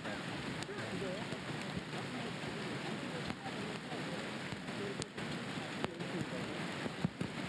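Sudden heavy rain pours down on a golf course during a professional tournament, a steady dense hiss of rainfall filling the scene with faint voices murmuring underneath.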